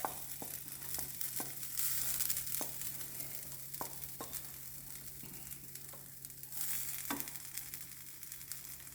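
Grated coconut roasts in a pan for a Kerala onion theeyal curry, with a faint steady sizzle and occasional soft scraping stirs, quiet and without talk.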